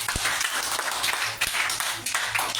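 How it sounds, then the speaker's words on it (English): A seated exercise class applauds itself with a short burst of close, dense clapping from a small group, uneven and a little scattered, fading slightly near the end. "you're going to give yourself a round of applause"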